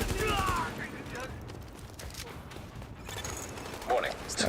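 Gunfire from The Division 2 rattles on through a mid-level mix of game noise, with sporadic shots and mechanical clicks heard behind a voice that talks over much of it.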